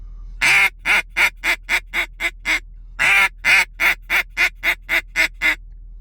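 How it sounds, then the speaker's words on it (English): A simple quack pattern blown on a duck call, two sequences each opening with a long lower note, then six or seven short, sharp quacks stepping a little higher, close, loud and clear with no talk. "that's just a simple quack"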